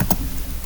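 Typing a chat command in Minecraft on a computer keyboard: two or three quick close key taps, one at the start and another at the end, with a short quiet gap between.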